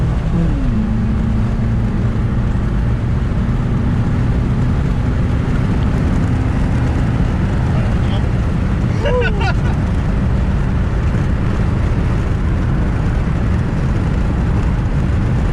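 A nitrous-fed Jeep accelerates hard in first gear, with a steady loud engine drone, a rising whine that fades out and a sharp shift partway through, while people talk near the microphone over wind noise.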